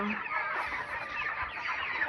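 Many broiler chickens cluck and chatter together in a dense, continuous flock noise, fairly close and steady throughout.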